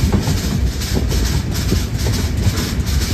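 The Nilsagar Express, a passenger train on the Dhaka to Naogaon route, rumbles along the tracks just past a bridge, giving a steady, loud, close rolling roar with low rumble and no voices.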